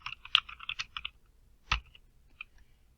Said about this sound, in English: I'm going to go ahead and type my name